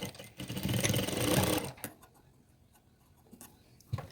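A sewing machine stitching a shirt collar runs in a dense, steady burst for about two seconds, then stops, leaving quiet handling noise before a brief restart at the end.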